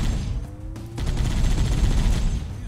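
A vehicle gunner fires in Halo: Combat Evolved on The Silent Cartographer, sustained rapid gunfire swelling into a loud, dense rattle after a brief dip, close and continuous.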